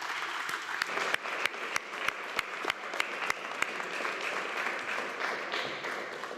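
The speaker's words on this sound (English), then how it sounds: "I think he can get his own round of applause there" Audience clapping for a junior sports award recipient at a school presentation day, a moderate scattered round with several distinct nearby claps punctuating the continuous patter, steady then gently fading.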